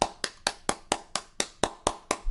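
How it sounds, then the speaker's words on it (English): Sharp, evenly paced hand claps ring out one at a time, about four per second, fairly quiet and close, with no voices during the short burst of applause for a political group. "Once again, round of applause for the Senate Demowits."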